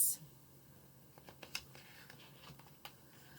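A typewriter clacks softly with irregular keystrokes and a few sharper clicks, faint and close, in a quiet room.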